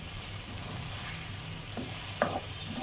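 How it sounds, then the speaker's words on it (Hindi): Ginger, garlic and green chillies fry in oil for chicken karela, a steady soft sizzle running throughout with a few brief scraping stirs of the spoon toward the end. "इन सब चीज़ों को हम भून लेंगे तकरीबन 30 सेकंड से लेकर 1 मिनट तक"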